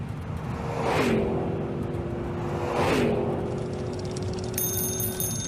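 A Toyota Prius hybrid in a chase, two rising whooshing passes with a climbing whine about two seconds apart, loud and near, followed by a faint high ringing tone near the end.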